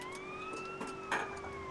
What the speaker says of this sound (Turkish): Şimdi sireni kullanmasak olmaz.